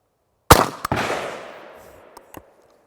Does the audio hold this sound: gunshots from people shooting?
yes